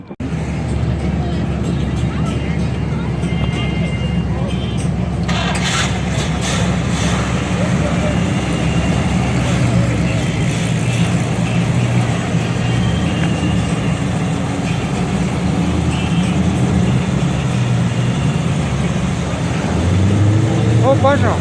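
GM muscle car engine, a Chevelle, rumbling steadily at a Hatboro First Friday cruise night, a continuous loud low throb with crowd noise and someone talking over it throughout.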